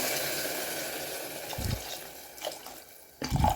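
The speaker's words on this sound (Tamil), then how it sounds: "இப்போ வந்து நம்ம அரிசி கழுவி வச்சுருக்க தண்ணி வந்து சேர்த்துக்க போகிறோம்." Rice-washing water is poured into a pan of small onions and green chillies for a Chettinad mandi, giving a steady close splashing pour that swells into a louder gush near the end.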